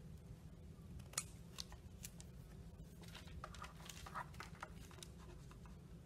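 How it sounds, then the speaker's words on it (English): Scissors snip tissue paper while making a kite, giving a run of soft, irregular cuts and rustles close to the microphone with no talking. "My scissors are a little too big."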